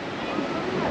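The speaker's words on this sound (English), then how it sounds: "You can see the waves rolling in." Surf rolls in at New Brighton Beach near the pier in Christchurch, a continuous broadband wash of breaking waves with wind noise at close range.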